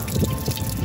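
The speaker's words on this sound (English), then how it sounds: "This is supposed to be running water." Warm mineral spring water runs from a public tap in Sofia, Bulgaria, a close, steady trickle with small gurgling drips and no talk.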